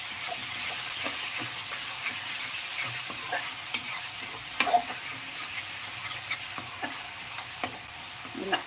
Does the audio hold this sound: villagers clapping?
no